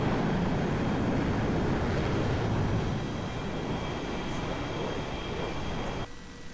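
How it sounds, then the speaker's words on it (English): An F-16 jet readying for takeoff in the DCS World flight simulator on the Nevada Test and Training Range map, a steady, loud, broadband engine roar that holds for several seconds, then abruptly drops in level near the end, with no voices. "An F-16 getting ready to take off."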